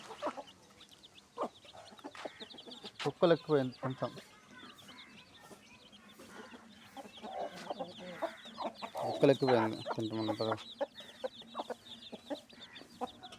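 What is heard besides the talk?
rooster and chickens clucking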